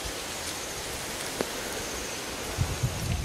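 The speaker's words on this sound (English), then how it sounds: "Wind." Wind blowing through Kaeng Krachan National Park, a steady broadband rush with soft rustling, strong gusts buffeting the microphone toward the end, no voices.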